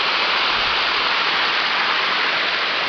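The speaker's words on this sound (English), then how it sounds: "This is the creek I mentioned, the beautiful falls." Waterfall on Sweeney Creek, a loud, close, continuous roar of falling water filling the whole clip without a break.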